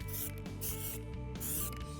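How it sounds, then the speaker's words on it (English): Spray primer hissing from an aerosol can onto metal roof flashing in two loud, close bursts with a short pause between, plus a faint rattle. "It allows me to spray on the primer right onto the metal flashing."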